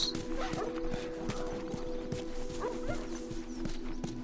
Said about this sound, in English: These are wild. Wild doggies.